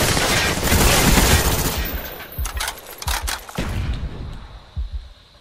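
Gunfire in the video game Black Ops during a flag match: a dense burst of shots at first, then scattered sharp single reports and thuds, loud and close, with players talking over the game audio.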